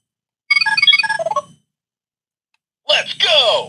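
Power Rangers Beast Morphers electronic toy plays two bursts: first a quick beeping melody of chirpy synthetic tones, then after a pause a loud electronic voice line with whooshing sweep effects, close and clear.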